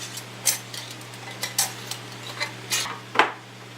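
Home carrot canning: several sharp, separate clinks and taps of metal and glass as a lid and ring go onto a jar, spaced across a quiet room with a steady low hum.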